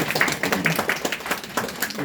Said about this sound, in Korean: 박수 치십시오